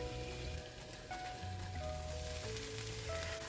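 Onions, ginger and garlic softening in oil in a partially covered pot, a faint steady sizzle and patter throughout over a low background hum, no talking.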